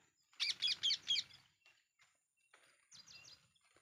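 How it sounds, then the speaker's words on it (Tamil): Green parrots perched in a neem tree give four sharp, loud chirps in quick succession, then after a pause a fainter cluster of calls, outdoors in light rain with no talking. "பச்சைக்கிளி பாருங்கள் நிறைய இருக்குது."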